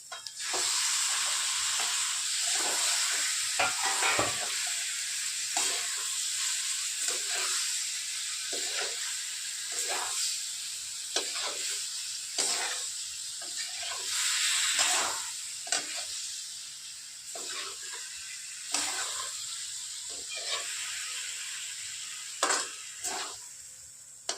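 Potatoes with coriander and salt fry in a pan, a constant bright sizzle under repeated scraping stirs at an uneven pace, close and fairly loud, with nobody talking.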